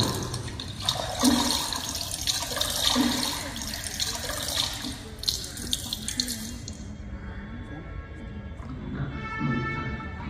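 Water splashes and pours as a palanquin is dipped into the Ganges, a staged sound effect in a light and sound show, with gushing bursts that fade and return in waves.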